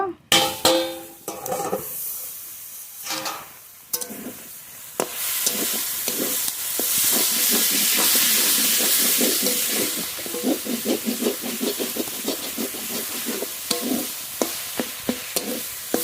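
Red amaranth leaves with a little water cooking in a covered pan over a village kitchen fire, producing steady hissing steam and sizzle, with rattling and clattering bursts toward the end.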